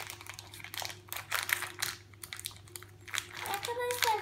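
A plastic wrapper is crinkled and torn open to unwrap a Pikmi Pops toy, close irregular rustling and crackling bursts while someone talks over it.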